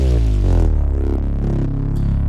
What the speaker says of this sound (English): it's just a big drone that I kind of modified a little bit